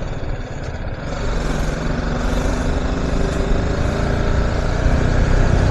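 Heavy traffic on a mountain road near Hatu Peak on a Spiti ride, a steady, loud, dense rumble of engines that builds slightly throughout, with no talk.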